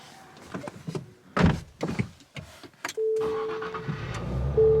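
Clicks and mechanical whirs give way to a 2023 Nissan Z engine catching and settling into a steady low idle, heard close from inside the car.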